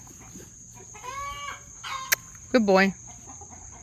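Spicy young roosters cluck and squawk while a Cane Corso named Preacher herds them, with short bursts of fowl calls rising near the end and a voice speaking briefly.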